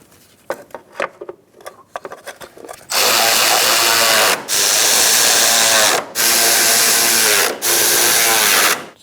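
A power tool tightens bolts on a 2012-2017 Hyundai Accent with a 1.6L four-cylinder during a transmission mount replacement, running in four loud sustained bursts separated by short pauses, after a few light clicks and taps.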